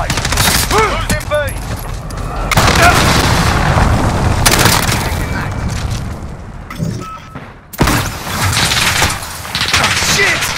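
Cruise missile strikes in the video game Call of Duty: Modern Warfare set off loud, rumbling booms and a dense volley of gunfire, a sharp blast standing out near the end amid constant battle noise.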